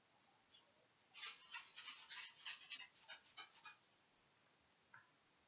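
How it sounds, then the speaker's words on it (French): A quiet burst of rhythmic rattling shakes, like maracas, lasting a couple of seconds with a few short shakes before and after. "Les maracas."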